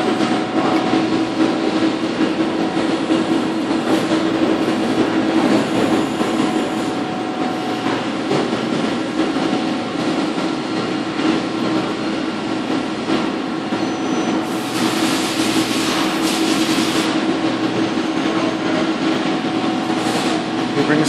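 Spindle of a Mori Seiki NL1500SY turning center running steadily at about 1,000 RPM, a dense continuous machine drone with a tonal whine, loud and close, with a brief hiss partway through.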